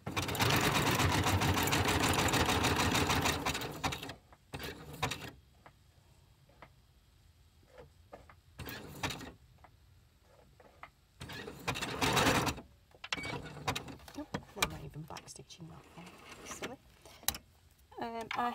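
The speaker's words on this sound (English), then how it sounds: "I am no expert with the sewing machine, so please don't cringe." A sewing machine with beige-brown thread zigzag stitches a music paper envelope, starting with a loud, steady run of rapid stitching, then short bursts and ticking pauses while someone speaks quietly.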